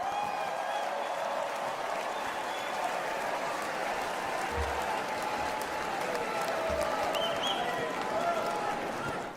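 A convention crowd at the 2024 Republican National Convention in Milwaukee applauds and cheers continuously, a dense steady roar of clapping and voices filling a large arena, with a few low thumps underneath.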